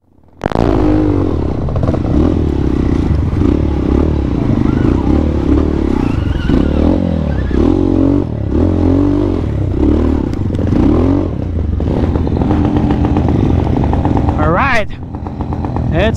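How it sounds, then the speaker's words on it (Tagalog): On a trail site in Porac, Pampanga, a just-repaired motorcycle engine roars continuously up close, revving with some clatter as voices cheer and talk over it. "nagawa yung motor ni bro"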